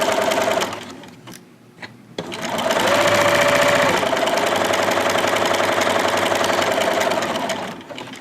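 Sewing machine stitching reinforced corners on fabric, a brief burst of stitching, pauses with a couple of clicks, then a long steady rhythmic whirring run, close and clear with no talking.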